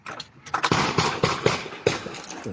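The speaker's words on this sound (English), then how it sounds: "Camera captured part of the gunfire." A quick burst of sharp gunshots cracks out in rapid succession, several close reports over a couple of seconds with some echo, from a fatal shooting involving ICE agents.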